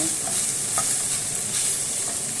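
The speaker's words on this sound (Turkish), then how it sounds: "Biraz bu salça kokusu çıkana kadar öyle kavuracağız." Tomato paste sautés in a pan for a Turkish eggplant oturtma dish, producing a steady, close hiss of sizzling with faint stirring scrapes and no speech.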